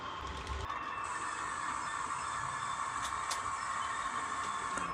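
Steady mechanical hum of a model BR218 train running on track, slowing and pausing, with a faint high hiss and occasional light ticks, continuous and fairly even throughout.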